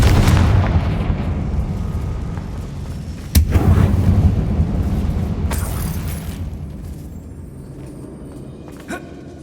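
A Confringo fire spell explodes in the Hogwarts Legacy video game, a loud rumbling blast that decays over several seconds, followed by a sharp secondary crack and a lingering fiery roar fading out.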